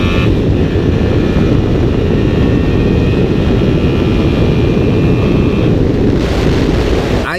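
A small BMW G310GS single-cylinder motorcycle with four valves and twin overhead cams roars hard and loud under acceleration, with heavy rushing wind noise and a rising whine over it, steady and close throughout.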